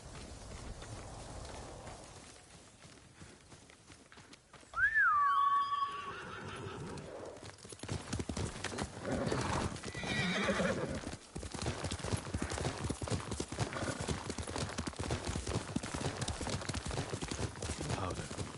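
In Ghost of Tsushima, a horse whinnies loudly midway, then hooves clip-clop in a fast, steady rhythm that continues to the end, with rain-like noise in the background.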